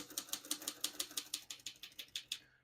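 Rapid, even keystrokes clatter on a 1947 Royal Quiet Deluxe portable typewriter, about fifteen crisp mechanical strikes in quick rhythm, close and fairly quiet with no voices.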